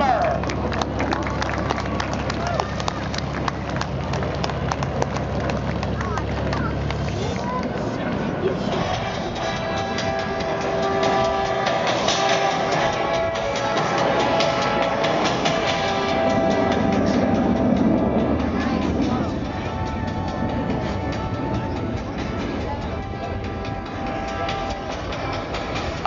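A B-2 Spirit stealth bomber flies past at the 2012 Joint Base Andrews open house air show, making a broad, steady roar that lasts the whole stretch, with crowd noise and voices mixed underneath.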